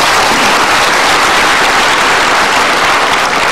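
An audience applauds steadily and loudly throughout, a dense wash of clapping that neither builds nor fades, with no voices on top.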